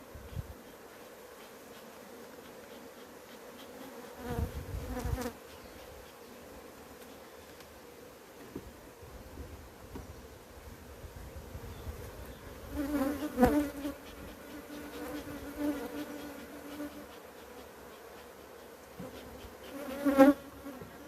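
Honey bees buzz steadily around an open beehive during hive work, a continuous insect hum with louder swells as bees fly close, alongside occasional rustling and handling sounds and no talk.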